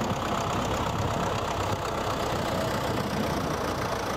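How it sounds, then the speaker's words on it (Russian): A tractor engine runs steadily while clearing snow from a small residential courtyard on a winter street, a continuous near rumble with a knocking idle and no pauses or talk. "Трактор работает в небольшом дворе на улице 15 лет октября."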